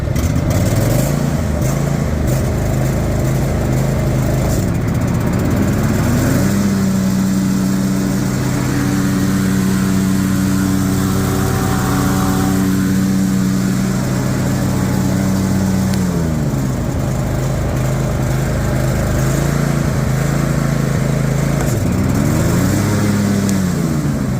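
Husqvarna zero-turn lawn mower with its blades engaged, a steady loud engine drone running the whole time, its pitch dipping and climbing in a few slow sweeps, with no talk.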